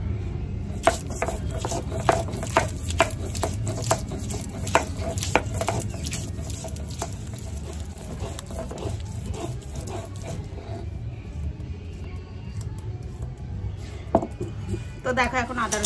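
Ginger and garlic being ground into a paste by hand for a chicken dish: a steady run of close, sharp knocks and scrapes repeats through most of the stretch over a low background rumble.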